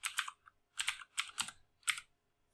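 Fingers typing on a computer keyboard while entering a table name in a database program, heard as quick clusters of crisp, close keystrokes in five short bursts separated by brief pauses.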